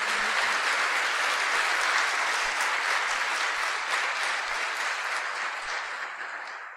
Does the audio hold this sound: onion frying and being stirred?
no